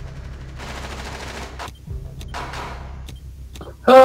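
A .45 caliber weapon fires in Rainbow Six Siege as several sharp gunshot bursts, spaced irregularly over a low engine-like hum. A louder, brighter burst closes the sequence.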